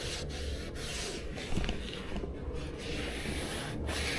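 A cloth or applicator rubs trim serum coating onto a car's plastic engine-bay trim, producing a steady, close, scratchy rubbing with short repeated strokes and no talk.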